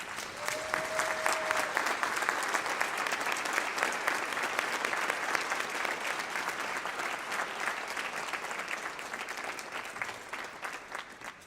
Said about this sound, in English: So let's give our families a standing ovation